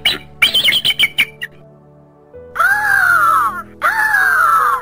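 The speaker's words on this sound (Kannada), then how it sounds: "ಬಿಳಿಗರುಡ ಪಕ್ಷಿಯ ಕೂಗು ಸಣ್ಣ ಮಗು ಹಸಿದಾಗ ಅತ್ತ ಹಾಗೆ." A white eagle calls in two long, loud, wavering wails that resemble a hungry infant crying, each lasting over a second, after a burst of shorter, sharper chirping cries at the start.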